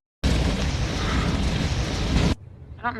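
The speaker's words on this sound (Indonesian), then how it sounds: "Rumah itu pun meledak" A house explosion: a loud, sustained explosive roar bursts in suddenly and rumbles for about two seconds, then cuts off into quieter background noise.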